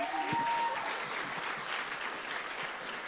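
An audience at the eCYBERMISSION national showcase, a STEM student competition, breaks into steady applause, a dense crowd clapping with a faint tone at the start that fades under it.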